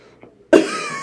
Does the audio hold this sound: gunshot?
no